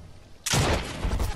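A sharp burst of gunfire erupts abruptly in Fortnite, loud and close, a rapid automatic volley rolling on for about a second with no talking.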